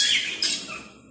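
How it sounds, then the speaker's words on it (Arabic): A Timbrado canary chick calls with a harsh, high squawking cry, nearly continuous for about a second with a second burst midway, close and fairly loud, no talking. "واحد ديال الفراخ ديال الكناري ما شاء الله تبارك الله من نوع تيمرادو"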